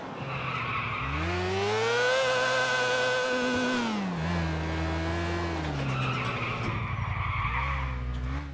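A car in GTA IV skidding after an e-brake turn, with a long loud tire squeal rising and falling over a revving engine, then a second squeal near the end.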